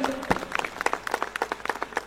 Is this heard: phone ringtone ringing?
no